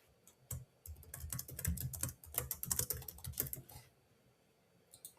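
Rapid keystrokes on a computer keyboard, a dense, uneven run of clicks lasting about three seconds with quiet pauses before and after, close and moderately loud, with no talking.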